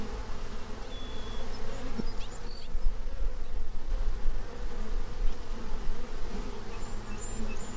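A swarm of bees, honeybees among them, buzzes in a steady close drone with no pauses, with no voices present.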